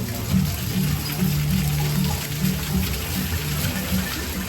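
Interactive fountain at an outdoor arts festival spraying water in pulsing jets that follow a visitor's hand, a steady close splashing rush with a rhythmic low throb, loud and continuous.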